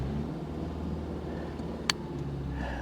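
A used car engine running badly rumbles low and steady at a distance, with one short sharp click partway through and no talk.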